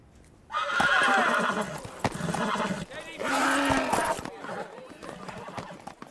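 A horse whinnies loudly in two long, wavering bursts, with brief thuds between them and quieter rustling toward the end.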